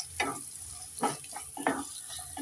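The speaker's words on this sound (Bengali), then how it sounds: "এবার আমি গাজর দিয়ে দেব, একটু নেড়ে চেড়ে দেব।" Carrots hit hot oil in a pan and are stirred, giving three or four distinct scraping, sizzling bursts spaced about half a second apart over a quiet background hiss.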